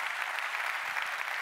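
A conference audience applauds, steady dense clapping from a crowd holding an even level for a brief stretch, with no voices over it.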